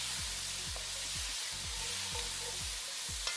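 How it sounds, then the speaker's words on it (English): Cherry tomatoes added to a pan with swordfish, sizzling in a steady, bright frying hiss with faint low rhythmic thuds of stirring, close and continuous. "So we are going to add the cherry tomatoes that we have."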